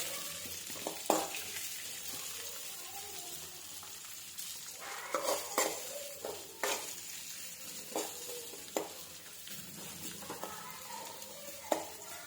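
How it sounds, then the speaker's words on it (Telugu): Thinly sliced onion frying in a pan, a steady soft sizzle broken by repeated scrapes and knocks of a spoon stirring at irregular intervals, close and fairly quiet. "ఆనియన్, వేసుకొని దాన్ని ఫ్రై చేయాలి"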